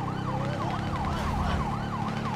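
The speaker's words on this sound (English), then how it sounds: "Gotta turn off my sirens." A wailing police siren in GTA Online sweeps up and down repeatedly, loud and close, over a low rumbling engine.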